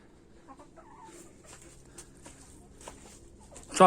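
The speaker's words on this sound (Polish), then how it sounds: "koguty muszą piać" Chickens cluck softly and intermittently nearby in a henhouse in winter, with a sudden loud squawk at the very end.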